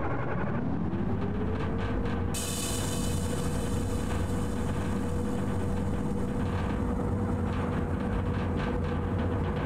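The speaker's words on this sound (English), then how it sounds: "We want to switch the engine on first, don't we?" A diesel railcar engine in a train simulator game cranks up, with a rising tone settling into a steady idle drone and a hissing layer joining partway through, continuous and fairly loud with no talking.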